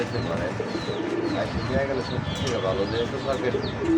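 Pigeons at a pigeon seller's offering birds for sale coo softly and steadily throughout, layered under continuous nearby conversation.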